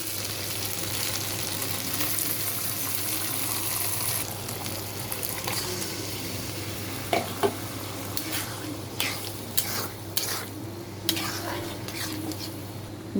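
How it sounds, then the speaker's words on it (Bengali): Chickpea lentils tipped into a hot spiced tempering with potatoes, frying with a steady sizzle while a spoon stirs and knocks against the pot in a run of sharp clinks during the second half. "এখন আমি ডালটাকে ফোড়নে দিয়ে দেব।"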